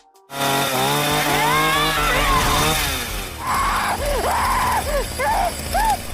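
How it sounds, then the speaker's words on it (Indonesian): A loud chainsaw roars to life and runs at full throttle, its engine pitch rising and dipping in revving swoops, close and continuous. "Giko mengeluarkan senjata andalannya, yaitu sebuah gergaji mesin"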